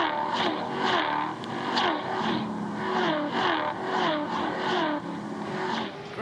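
A race car laps a circuit, its engine revving and whirring in repeated rising and falling surges, loud and steady throughout.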